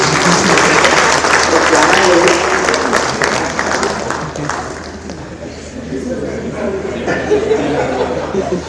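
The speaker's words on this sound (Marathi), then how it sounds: "टाळ्या वाजवा ना." Audience at a lecture breaks into loud, close applause mixed with some chuckling, which thins out midway into crowd murmur and talking before a few claps pick up again.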